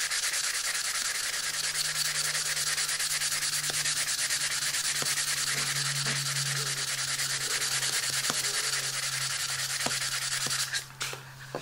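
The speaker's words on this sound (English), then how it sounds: "You generally have to sand end grain longer because it's just a harder surface." Wooden end grain sanded up to 400 grit by hand, giving a continuous, close, even scratchy rubbing that stays steady throughout and tapers off at the end, no talking.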